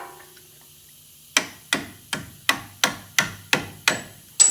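A small screwdriver used as a punch is struck with a hammer during a Ford Escape wheel bearing job. Eight sharp metallic hits come at an even, fairly quick pace, each ringing briefly, close and loud after a quiet start.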